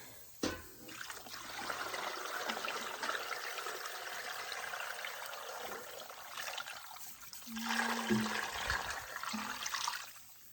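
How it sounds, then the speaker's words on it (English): Cold water poured into a pot for chicken bone broth, a steady close stream gurgling and splashing for about ten seconds, swelling louder near the end. "And I'm going to top this up with some cold water."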